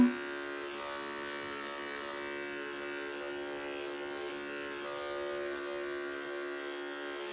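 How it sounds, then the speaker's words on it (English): Electric trimmers run steadily while clipping a Havanese dog's fur during a short grooming haircut, a close, even buzzing hum that holds without a break throughout, with no talk. "so you can take off the blade protector, so it's just the trimmers"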